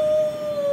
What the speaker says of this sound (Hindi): भेड़ियों की आवाजें आती है।